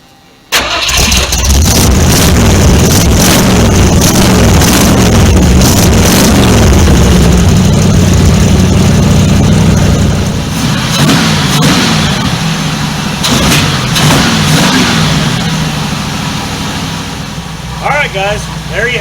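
A 1976 Ford LTD V8 fitted with a new budget exhaust cranks and fires, then revs loudly and rumbles at close range, its deep exhaust note rising and falling over a rough idle, with a voice talking over it.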